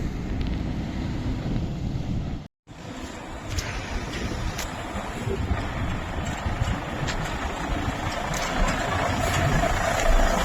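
A Freightliner Cascadia truck idles nearby during fifth wheel repair work, a loud, continuous low engine drone mixed with wind buffeting, with one brief dropout early on.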